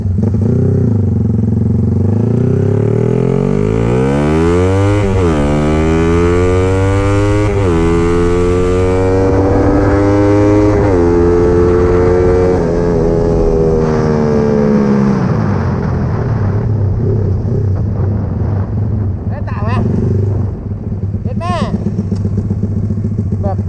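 A Honda CBR150 carbureted engine revs hard and loud up close, its pitch climbing in repeated long sweeps toward the top of the rev range, dropping back between pulls, with a steady idle-like drone underneath.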